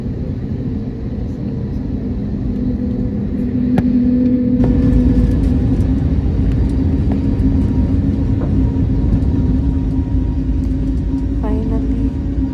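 Airliner engines roaring as the aircraft takes off, a loud continuous cabin rumble that swells after a few seconds and holds steady, with faint clicks and rattles over it and no speech.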